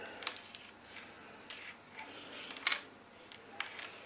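Cards for the Space Hulk board game being shuffled by hand, a faint, soft riffling and shuffling with a few light ticks and one brighter snap, close and quiet with no speech.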